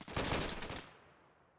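A ceremonial rifle volley cracks out in a salute, several shots fired almost together in one loud burst that rings and fades over about a second.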